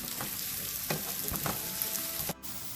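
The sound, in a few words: sautéing garlic with curry leaves in a pan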